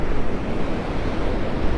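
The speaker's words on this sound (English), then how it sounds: "There's some pretty good waves out there on that outer edge of that sandbar." Ocean surf breaks along the outer edge of a sandbar off a beach at Delnor-Wiggins in North Naples, a loud, continuous broadband roar mixed with wind rumble and no voices.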